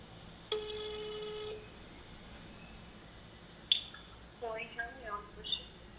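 A telephone rings while a call is placed, with one long warbling ring tone followed by a brief click and a few shorter chirping tones, heard clearly against quiet background hiss.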